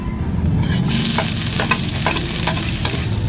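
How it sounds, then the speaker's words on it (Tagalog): Onion and garlic sautéing in a pan for beef broccoli: a loud, close, steady sizzle with a run of rhythmic stirring scrapes and clacks, with no voices. "Gisa na tayo mga boss ng sibuyas bawang para sa ano natin, beef broccoli"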